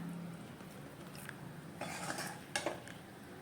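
Carrot halwa being served from a pan onto a plate: a few soft scrapes and clinks of a spoon against metal over a quiet kitchen background.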